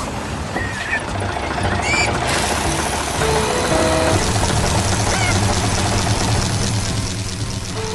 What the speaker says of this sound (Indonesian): Lihat ini, mesin gali itu sedang bekerja keras, memasukkan pisau spiral ke dalam tanah dengan semangat penuh.